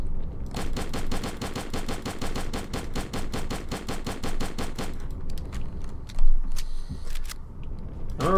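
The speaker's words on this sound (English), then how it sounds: "I'm just gonna keep on shooting you until you stop doing that whole existing thing" Gunfire aimed at a stalker in the Call of Chernobyl video game: a steady, evenly spaced automatic burst for about four seconds, then quieter scattered sounds and a lone thump.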